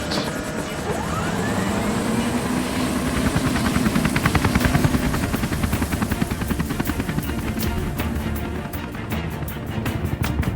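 A rescue helicopter taxis for departure, its rotor chopping in a loud, steady rhythmic beat up close, with turbine whine underneath and the blade thumps sharpening toward the end.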